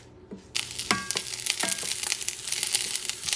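After a quiet start, salted pork hits the pan and begins crackling and sizzling, with several sharp scrapes and clatters of a utensil against the pan over the sizzle.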